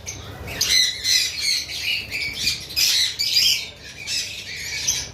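Cockatiels, lovebirds and pineapple conures at a bird farm squawk loudly and nonstop, shrill overlapping calls in rapid bursts with no voices.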